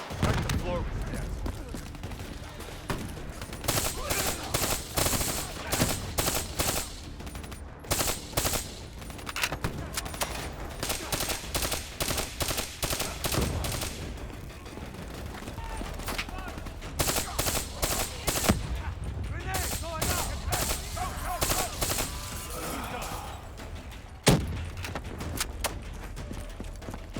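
Rapid automatic gunfire in the video game Call of Duty Black Ops 3 rattles in repeated bursts with short pauses, loud and close, joined by scattered single shots and game noise, with voices over it.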